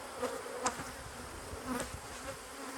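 Bees buzzing around hives at an apiary after splits, a steady soft drone with a few brief louder passes of insects flying close, no voices.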